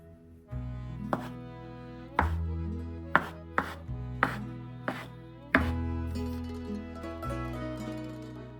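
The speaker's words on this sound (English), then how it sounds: "then we're just gonna slice the gnocchi" A knife slices through soft gnocchi dough onto a cutting board, giving about eight dull, well-spaced thunks close by, with steady background music underneath.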